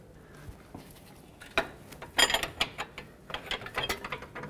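A wrench turning out a tight lower control arm bolt on a 2001-06 Toyota Camry, giving irregular metallic ratcheting clicks and clanks that quicken toward the end, close and moderately loud, without speech.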